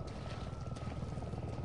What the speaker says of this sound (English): The helicopter's gonna crash.